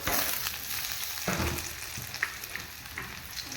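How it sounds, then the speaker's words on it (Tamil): Ginger garlic paste with chili powder and coriander powder frying in hot oil for egg rice, a steady close sizzle with a few scraping stirs and light clinks, no talking. "இப்போ நம்ம எடுத்து வச்ச இஞ்சி பூண்டு பேஸ்ட்டு மிளகாத்தூள் தனியாத்தூள் எல்லாமே போட்டுக்கலாம் ஒன்றாவே"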